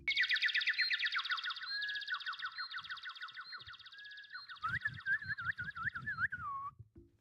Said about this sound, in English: Birds are chirping, fellas.